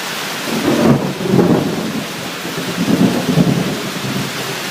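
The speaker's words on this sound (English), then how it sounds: "It's not going to do anything much else than thunder and lightning." Rolling thunder rumbles twice during a thunderstorm over steady rain falling on a tin roof near a pool, deep low booms swelling and fading with no talk.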